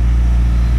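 Diesel pickup trucks, including an Amarok, launching in a drag race, producing a loud, steady low engine rumble that holds close and continuous across the whole short stretch.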